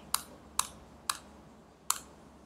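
Keys on a computer keyboard are pressed one at a time while setting up a Node.js project, four crisp, close clicks spaced evenly apart in a quiet room.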